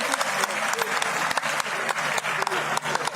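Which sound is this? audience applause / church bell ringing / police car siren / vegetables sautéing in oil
audience applause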